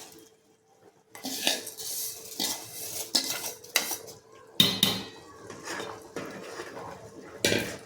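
Ghee-roasted vermicelli tipped into a metal pot and stirred, giving scattered clinks and scrapes of a spoon against the pot, close and irregular, with quiet gaps between knocks.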